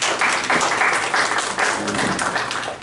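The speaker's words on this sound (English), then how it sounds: "You don't have to clap until I do something that's clappable." An audience claps together in a sustained burst of applause lasting a few seconds, then tapers slightly at the end.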